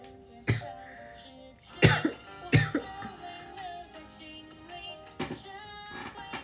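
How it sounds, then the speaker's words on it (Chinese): A woman coughs several times in short bursts, with throat clearing between the coughs, heard close over a quiet background with soft tonal music. "对不起大家，我在咳嗽。"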